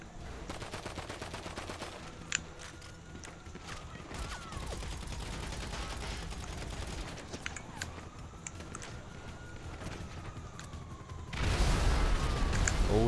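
Rapid gunfire from a weapon in GTA 5 Online, dense bursts of shots running almost continuously under game noise, with a louder surge of firing near the end.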